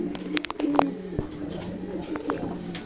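A male pigeon coos in soft, low, repeated bursts close by, with a faint background hum and no talking.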